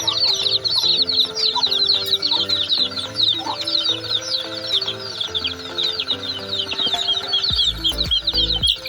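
Chickens and chicks on a farm fill the air with busy clucking and high, constant peeping from many birds at close range, with no talk.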